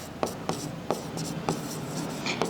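A teacher writes on a board during a class-five maths lesson. Regular chalk taps and scratchy strokes come about every half second, close and clear, with no voices.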